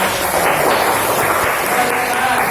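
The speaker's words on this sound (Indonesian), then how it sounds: "Beri tepuk tangan untuk Ruli yang sudah" A classroom of students claps for a classmate, a steady broadband patter of applause filling the whole moment, fairly loud and continuous.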